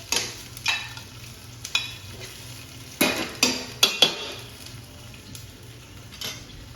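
Calamari frying in a hot pan, a steady sizzle punctuated by several sharp utensil scrapes and clinks against the pan as the pieces are stirred, close and clear with no talking.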